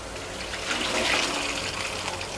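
Soaked dry beans being drained, water pouring and splashing steadily through a strainer, close and fairly loud with no talk over it.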